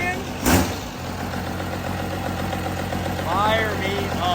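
A 1978 Chevy K20 truck engine idles steadily with a low, continuous rumble, after a brief louder burst near the start; the idle holds evenly throughout.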